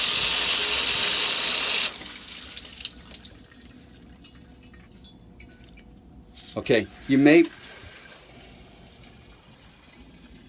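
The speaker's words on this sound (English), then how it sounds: "you should always hear water coming into the tank" Running water hissing as it flows into an iron filter tank, loud and steady at first and then dropping to a faint trickle, with a brief spoken remark near the end.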